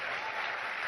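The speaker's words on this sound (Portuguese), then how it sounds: "Gente, aplaudam o Silas, que o Silas está traduzindo muito bem." Audience at a Sunday morning church family service applauding Silas, the translator: a dense, steady wash of clapping, fairly loud and close, with no pauses in under a second.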